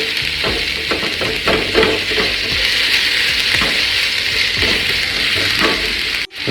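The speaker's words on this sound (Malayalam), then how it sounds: "ഇത് നന്നായിട്ടൊന്ന് വഴറ്റിയിടുക." Three sliced onions sautéing in a pan for king fish mappas, a loud continuous close sizzle with frequent scraping strokes of a stirring spoon, no voices.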